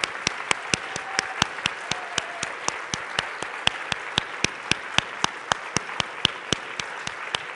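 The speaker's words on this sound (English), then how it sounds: "let's give a round of applause to Mickey" An audience applauds at a speech event on the Death with Dignity movement, with a steady, fairly close patter of individual claps running throughout, no voices.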